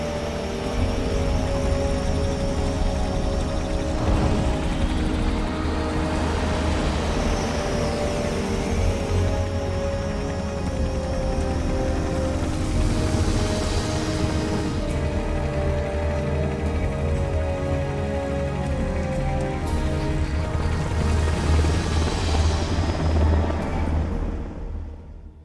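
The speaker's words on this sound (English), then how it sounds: "what's a Russian gunship doing here?" A Russian Hind gunship helicopter flies in a video game, producing a loud, continuous, dense rotor and engine roar that holds steady with slight swells throughout, then cuts off abruptly at the end.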